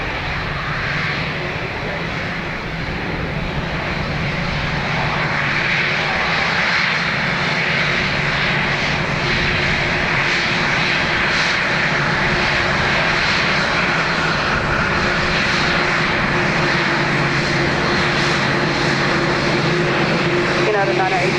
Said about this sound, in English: Plenty of reverse noise there from the Gen X engines.